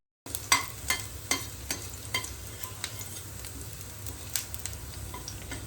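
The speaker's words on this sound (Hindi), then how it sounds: "जैसे ही मेरा घी गर्म हो गया मैंने लहसुन डाल दिया फ्राई होने के लिए।" Garlic frying in hot ghee in a pan, a soft steady sizzle with regular light clicks and scrapes of stirring, close and fairly quiet with no talk.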